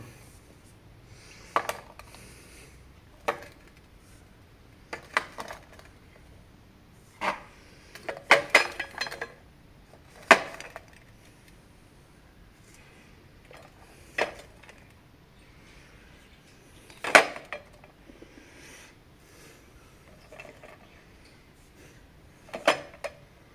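Quiet, sporadic clinks and taps of duck eggs set down one at a time into a steel bowl, spaced irregularly over a hushed background.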